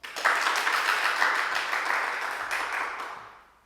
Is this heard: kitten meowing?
no